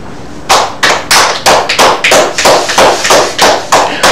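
Audience clapping together in a steady rhythm, about a dozen sharp, loud claps in unison, evenly spaced, with no talking.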